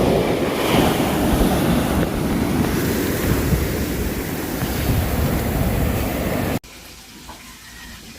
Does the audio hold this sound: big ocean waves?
yes